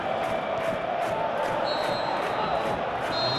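A packed football stadium crowd at a Champions League match between Real Madrid and Bayern Munich roars steadily, a dense continuous wall of cheering and chanting with a rhythmic pulse and occasional whistles, with no clear speech.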